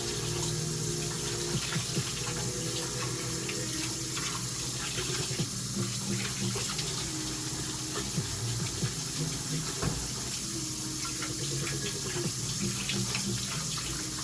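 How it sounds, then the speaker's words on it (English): Cold tap water runs steadily over noodles being rinsed in a sink, a continuous hissing splash that stays loud and close from start to finish, with no talking. "I like to rinse it real good with cold water"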